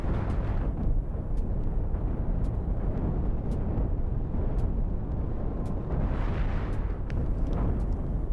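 Space battle in Cosmoteer: ship-mounted nukes and chain guns fire in a constant, dense rumbling barrage, with sharp pops and bursts breaking through a heavy low roar, and no voices.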